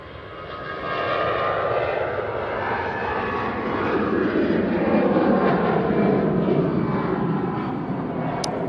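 EasyJet airliner jet engines roaring steadily at Manchester Airport, a broad continuous rumble that swells in after the first second and holds loud and sustained throughout.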